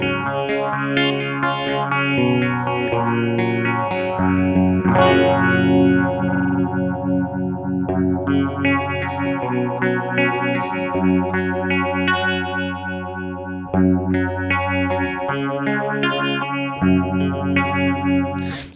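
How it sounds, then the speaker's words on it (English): Electric guitar run through a KMA Audio Machines Astrospurt phaser pedal with the rate turned up, chords and notes swirling with fast sweeping phase movement, loud and continuous with no talking. "a beautiful, very cool sounding phaser pedal from the get-go."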